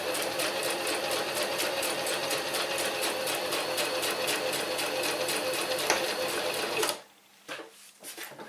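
A sewing machine back tacks a billy can stuff sack, running as a steady, close, rapid stitching chatter for about seven seconds before it stops, followed by a few light handling knocks.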